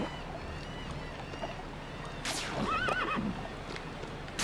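A horse in the video game Lego City Undercover gives a short, clear whinny midway, over a steady background hum with faint hoof-like clopping.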